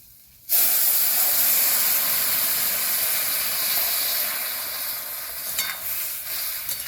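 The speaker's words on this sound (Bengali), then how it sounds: "ভালো করে নেড়ে চেড়ে মিক্স করে নেবো" Fish curry with boiled potatoes and chilli powder hitting a hot pan, starting abruptly with a loud bright hiss that settles into a steady close sizzle and steam while being stirred.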